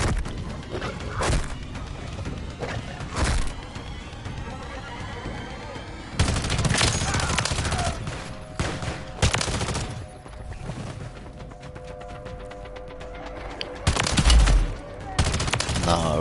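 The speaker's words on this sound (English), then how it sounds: "Are these guys at the camp really shooting at me?" Gunfire from enemies at a camp in Modern Warfare Zombies, with bursts of automatic fire and scattered shots coming in uneven clusters, loud and dense through most of the stretch, with a heavier thump near the end.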